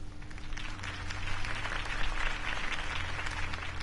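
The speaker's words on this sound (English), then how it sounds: "If only Mr. Wayne, my campaign's largest backer, could have heard that applause" Crowd applause after a campaign speech in a Batman Telltale video game, steady, dense clapping that holds loud throughout with a slight swell in the middle.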